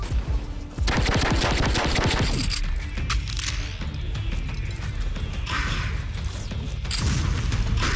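Weapons fire in the VR game Super Rumble in rapid bursts of close, loud shots and mechanical clatter, with short pauses between volleys and no talking.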